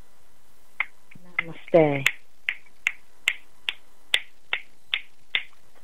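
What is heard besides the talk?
audience finger snapping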